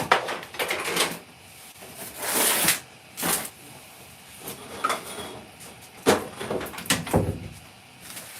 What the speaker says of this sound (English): I'm just gonna close this door.